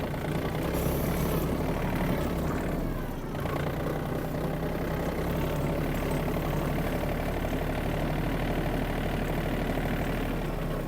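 A Yanmar RS-24 Japanese mini tractor runs with its engine droning steadily and loudly at close range the whole time, with a brief dip near the third second and no voices.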